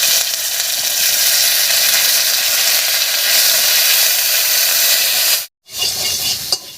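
Ginger, fennel and cumin pastes fry in oil for a village-style vegetable dal, a loud, dense, continuous sizzle that cuts out briefly near the end before resuming.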